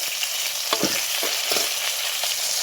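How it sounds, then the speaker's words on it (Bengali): A hilsa fish head fries in oil in a kadai, a loud continuous close sizzle with a few bursts of spattering crackle and light stirring, no voices. "মাছের মাথাটা লাল লাল করে ভেজে নিয়েছি"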